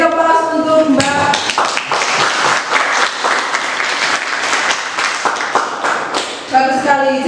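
Classroom applause for a student, a dense burst of many hands clapping that starts sharply and fills most of the stretch, fading back toward talk near the end, with voices at the start and finish.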